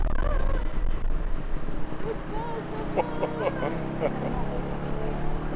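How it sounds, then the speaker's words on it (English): A tuk-tuk engine drones loudly during a ride through a Chiang Mai soi, with steady low rumble and rushing wind noise, while people talk over it. "The loud engine and the wind really make us feel like we are racing down the Soi."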